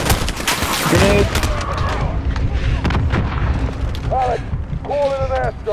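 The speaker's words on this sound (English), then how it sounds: "Grenade!" A grenade goes off in Call of Duty Modern Warfare amid heavy battle noise: loud booming blasts and gunfire rumble, with shouted voices over the chaos.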